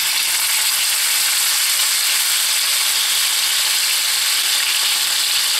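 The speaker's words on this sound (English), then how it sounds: "Going to sizzle." Steady, loud sizzling of pork tenderloin browning in hot oil, a dense crackling hiss that holds even throughout with no voices.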